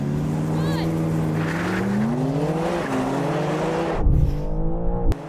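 A BMW M4 CS and an M8 accelerate hard side by side in a drag race, loud rising engine notes sweeping upward through the gears, with a brief shift break near the end.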